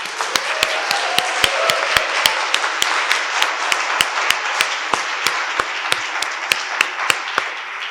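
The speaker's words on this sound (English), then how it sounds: "let's give all of our finalists a round of applause" Audience at the Columbia 3MT 2024 competition applauds the finalists with a steady wash of many hands clapping, while one nearby pair of hands claps loud, sharp, evenly spaced beats on top of it.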